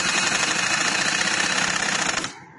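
Sewing machine stitching a girl's cotton frock, a loud, steady rapid mechanical whir and clatter that runs continuously and then stops near the end.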